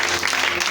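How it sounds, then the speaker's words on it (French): Congregation applauding inside a church during a French-language service, a steady dense wash of clapping filling the whole brief moment with no pause. "Acclamez cette parole."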